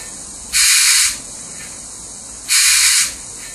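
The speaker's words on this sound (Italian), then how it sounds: "Scarico aria compressa." Two sharp bursts of compressed air released from an H0e model locomotive, ÖBB MH 399, each about half a second long, separated by a steady background hiss.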